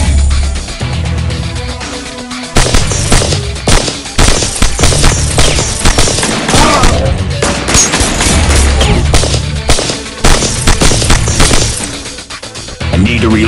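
Rapid bursts of gunfire and loud impacts from the shooter video game Evolution: Battle For Utopia, fighting in a bunker sector, near and dense across the whole stretch with brief pauses between volleys.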